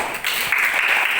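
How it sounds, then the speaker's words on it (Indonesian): A short burst of group clapping breaks out in a classroom for a student, starting after a brief pause and continuing at steady volume. "Tepuk tangan buat Abi."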